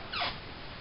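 The door of a 1979 Triumph Spitfire, stored in a storage unit, gives one brief, rising-and-falling squeak as it moves, close by and fairly quiet over low background noise.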